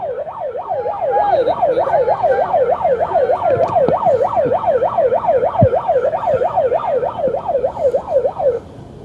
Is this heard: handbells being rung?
no